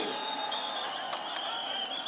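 A crowd claps steadily at a political rally in Khulna, a dense, continuous wash of applause that sounds somewhat distant and holds even for the whole stretch.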